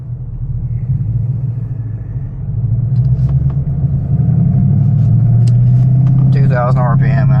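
A 2013 Mustang GT V8 accelerates in first gear, its deep engine rumble rising steadily in pitch and growing louder, while someone talks over it from inside the car.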